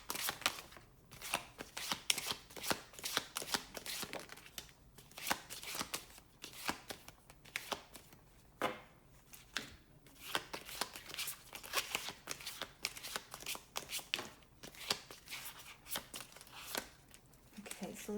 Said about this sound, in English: before we finish shuffling the deck